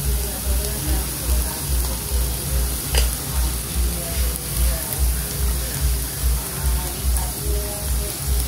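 Onions and spices roasting in a pan, a steady crackling sizzle under a rhythmic low pulsing hum, with someone talking over it at times.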